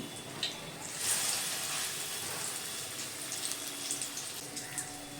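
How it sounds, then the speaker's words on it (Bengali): Steady bubbling hiss of spinach kofta deep frying in oil, with a brief louder surge of sizzle early on, then a continuous crackle. "কোফতাগুলো ভিতর থেকে পুরোপুরি খুব সুন্দর করে ভাজা হয়ে যাবে"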